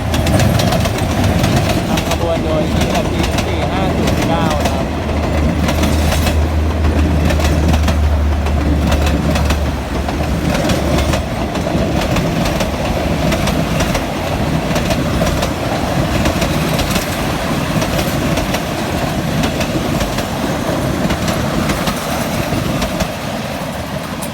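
Hitachi 4509 diesel locomotive hauling a train into Ban Pong station, with a steady engine rumble and faint rail clatter running throughout, mixed with background voices.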